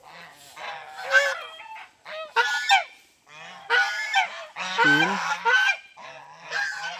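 Several ducks quack loudly and nasally in repeated bursts close by at a fish pond, while a person counts them aloud between the calls.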